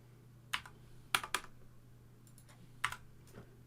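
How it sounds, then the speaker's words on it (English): Typing on a mechanical gaming keyboard with Cherry MX Red switches, a few quiet, close, separate clacks and short bursts of keystrokes spread irregularly over a faint steady hum. "You got gaming keyboard. You got mechanical keyboard. Yes, Cherry MX Red."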